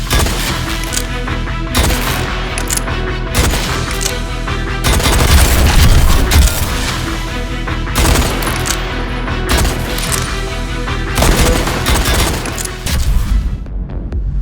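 Loud revolver gunshots in a VR shooter game, fired in dense repeated bursts with short pauses between volleys and booming impacts, filling the whole stretch with no talking.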